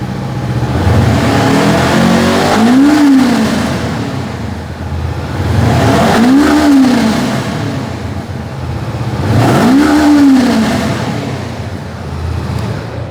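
A Honda NX500 parallel-twin motorcycle with a dual-tip exhaust revs up three times in a row, each throttle blip rising and falling back to a steady idle, loud and close with no talking.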